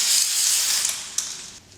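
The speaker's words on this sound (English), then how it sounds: "And then I can start spraying." Glitter spray paint hissing from an aerosol can onto a cardboard-protected surface, a steady close bright spray for under two seconds, briefly interrupted near the end.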